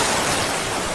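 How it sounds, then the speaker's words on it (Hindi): Sea waves roll onto a beach at night as a steady, dense wash of surf noise that stays loud and unbroken throughout, with no voices. "समंदर की आवाज और तेज होती जा रही थी।"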